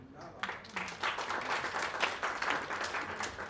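Applause from an audience at a trailer launch for a biopic of Acharya Vidyasagar, fairly faint and uneven clapping that swells after a soft start, with a voice briefly audible.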